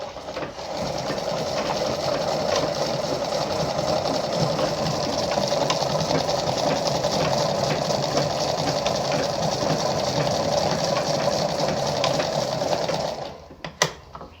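A Lada model 237-1 sewing machine stitches fabric in one continuous run, a steady close whirring rattle of the needle mechanism that ends with a few clunks as it stops.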